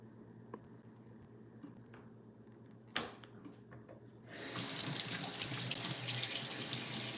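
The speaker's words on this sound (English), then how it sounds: "Let me wash my hands" Hands being washed under a running kitchen tap: after a quiet stretch with a few small clicks and a knock, the faucet turns on and water gushes steadily and close.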